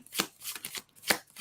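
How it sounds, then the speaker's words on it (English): Tarot cards shuffled and pulled during a psychic reading, giving several quick papery riffles and flicks in an uneven rhythm, close and fairly quiet, with no talking. "May I please have some cards pulled?"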